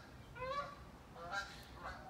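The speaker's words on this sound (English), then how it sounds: "we have some geese flying overhead." Geese honking as they fly overhead outdoors in the morning, three faint, distant calls in quick succession over light background noise.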